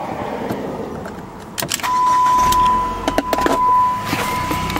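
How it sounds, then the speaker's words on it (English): A car engine cranks and catches with a rising whir, then settles into a near idle, preceded by small clicks and rustles, all loud and close. "Let me turn the car on."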